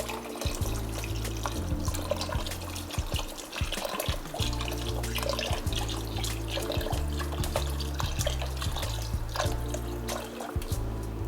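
Beef broth poured from a canister into a pot of short ribs, a continuous gurgling, splashing liquid stream with brief pauses between glugs, close and moderately loud.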